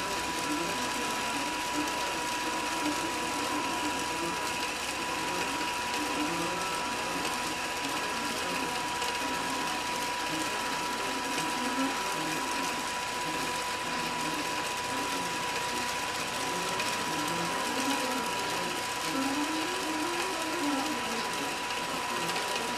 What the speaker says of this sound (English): You can see the machine hesitating at those dwell points.